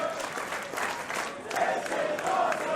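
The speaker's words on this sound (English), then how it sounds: "Crowd here in Newcastle loving every second of this." A wrestling crowd in Newcastle cheers and applauds continuously at a tag team title match, with a broad wash of claps and shouts filling the arena.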